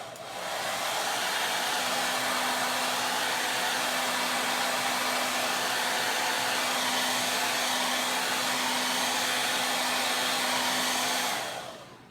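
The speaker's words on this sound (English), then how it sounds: "what I'm using to dry these things is just a hair dryer" A hair dryer blows steadily at close range, a loud even whoosh with a faint hum, switching on at the start and off near the end.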